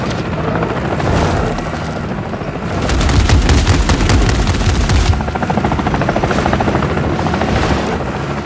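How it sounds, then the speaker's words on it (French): Attack helicopter in the game Call of Duty Modern Warfare 3, a loud, close rotor thump that pulses steadily, joined by rapid bursts of gunfire and booms, with no talk. "L'hélico d'attaque me prend pour cible."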